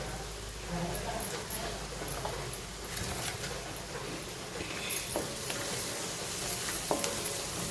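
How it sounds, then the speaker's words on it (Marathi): Asafoetida dropped into hot oil with turmeric gives a continuous close sizzle and crackle in a pan, lasting throughout, with a few faint utensil clicks and some low background voice. "हा आपण हिंग घालत आहोत"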